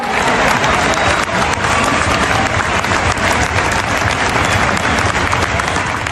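Football fans in the Pascual stadium, some 37,000 strong, applauding from all sides, a dense continuous wash of clapping and crowd noise that stays loud throughout.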